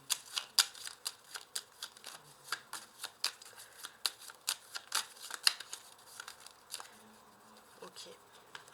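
Tarot cards shuffled and dealt out in a quiet room, a fast run of crisp riffling snaps and soft slaps repeating steadily, close and fairly faint, with no voices over it.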